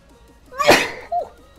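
A single loud human sneeze bursts out close by, preceded by a quick inhale and followed by a short voiced exhale, with faint game sounds underneath.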